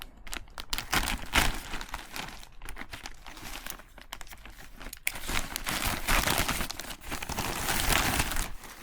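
Packaging for new bike gear is cut and torn open close up: crisp plastic crinkling and tearing with scattered snips and rustles, loud and irregular, no voices.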